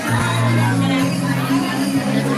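A live event crowd makes a loud, close murmur of mixed voices and babble, with a low hum underneath across the short stretch.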